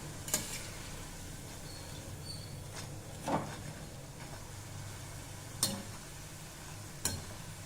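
Butchanam, a Diwali snack, frying and bubbling in oil over a medium flame: a soft, steady bubbling sizzle with a few sharp isolated clicks or pops scattered through.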